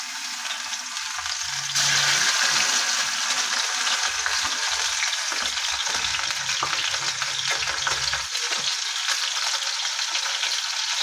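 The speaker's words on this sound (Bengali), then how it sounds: "দেখুন, তেল গরম হয়ে গেছে। আমি এর মধ্যে মাছগুলোকে দিয়ে দিচ্ছি।" Fish pieces hit hot mustard oil in a pan, bursting into loud continuous sizzling and crackling frying that stays strong and close, with faint stirring and clinks underneath.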